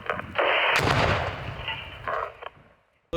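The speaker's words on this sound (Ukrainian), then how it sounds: "ми їх знищуємо на місці е, шляхом накладання вибухівки поруч біля касетного боєприпасу" Controlled detonation of a cluster munition with placed explosives: one loud, sharp blast followed by a long rolling rumble and echo that decays over about two seconds, with a second burst of debris noise near the end.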